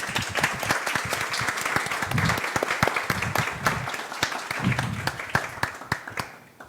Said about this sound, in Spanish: nuestro invitado muy especial, Lucas Magnin, con un afectuoso y caluroso aplauso, por favor.